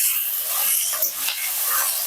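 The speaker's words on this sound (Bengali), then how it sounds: "এবার আমি দিয়ে দেবো চিড়ে রাখা কাঁচা লঙ্কা আর আলু, দিয়ে এগুলো ভেজে নেবো লাল লাল করে আলুগুলো" Green chilies and potatoes frying in hot oil with five-spice tempering, a steady bright hiss and sizzle filling the whole stretch, close and fairly loud with no voices.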